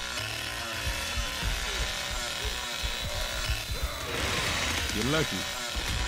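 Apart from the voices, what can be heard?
chainsaw in Texas Chainsaw Massacre video game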